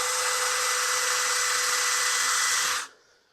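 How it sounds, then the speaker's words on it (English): A power drill bores steadily through metal with a cutting bit at about 650 RPM under firm pressure, a loud continuous whine that holds for nearly three seconds before spinning down and stopping. "my drill, stab it in there while it's running"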